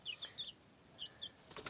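Several high, thin peeping calls from young chickens come in short bursts with gaps between, faint and fairly close, kept indoors in a tiny off-grid house alongside a parrot; no one talks.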